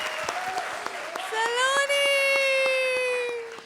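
Studio audience applause at a Comedy Circus comedy show: steady, dense clapping, close and loud, running throughout with a sustained voiced tone rising over it midway before the clapping fades.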